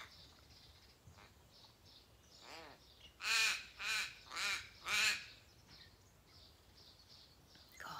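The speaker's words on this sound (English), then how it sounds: "That crow is so distracting." A crow caws loudly four times in quick succession, harsh and nearby, standing out against a quiet room background.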